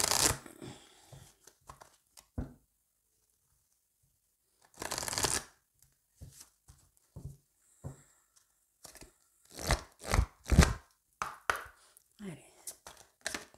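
Tarot cards being cut and shuffled up close, soft riffling bursts and crisp slaps separated by quiet pauses, with faint speech in places.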